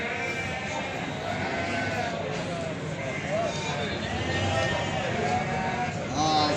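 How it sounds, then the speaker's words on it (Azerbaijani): Sheep bleat now and then at a crowded sheep market in Beylagan, with several animals calling amid steady crowd chatter and people talking close by throughout. "bax belə analı qoyunlar var"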